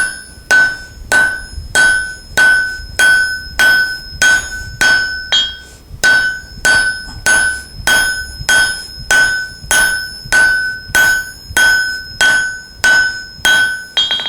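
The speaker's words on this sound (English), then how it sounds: "I'm using a 4-pound hammer, and I'm knocking the snot out of it" A 4-pound hammer pounds a hot steel drift for axe and hammer heads, loud ringing blows in a steady, even rhythm of about two strikes per second, alone and close.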